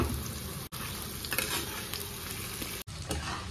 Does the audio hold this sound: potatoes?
yes